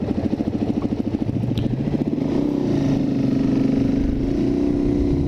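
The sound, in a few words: Suzuki DRZ400 motorcycle engine while riding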